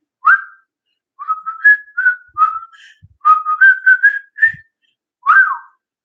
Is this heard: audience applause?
no